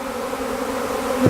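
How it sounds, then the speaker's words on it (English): Honey bees buzz around the entrance of a nuc hive as a swarm arrives, a steady, dense hum close by with one brief, louder pass near the end. "And the bees coming in."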